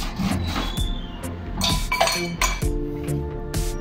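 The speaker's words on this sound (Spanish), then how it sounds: "Le vamos a agregar otro poco de hielo." Ice cubes clinking and rattling against glass and a metal shaker while a summer cocktail is mixed, with irregular bright clinks and scraping throughout, close and fairly loud with no talking.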